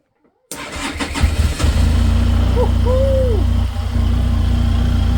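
A Benelli TRK 502X motorcycle with repaired ignition cranks briefly, then catches and settles into a steady, loud, close idle that runs to the end.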